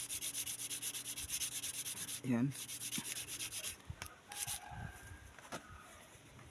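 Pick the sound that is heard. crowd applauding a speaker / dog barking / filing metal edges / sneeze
filing metal edges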